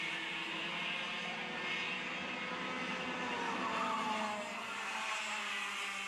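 Cadet 12 racing karts in a small pack circulate during the final of a kart racing event, a steady buzzing engine drone holding at moderate level throughout with no close pass-by peak.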